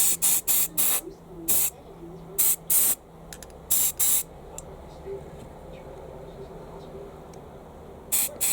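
Spray can firing short bursts of paint onto miniature Warhammer Lizardmen Cold One Knight parts, a rapid cluster of sharp hissing puffs, a quiet pause, then more short bursts, close and crisp.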